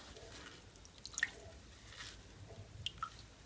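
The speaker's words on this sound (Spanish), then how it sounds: "Lo escurrimos" Soft wet squishing and dripping as a soaked crocheted bag is wrung out after a cold-water wash, with scattered drips of water, quiet and close.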